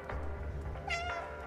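A cat in the video game Stray gives a single short meow, clear and close over a soft, steady game background.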